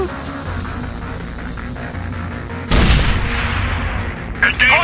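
Gunfire in the video game Rainbow Six Vegas: a sudden loud burst of shots and booms cuts through steady combat noise, with further shots near the end.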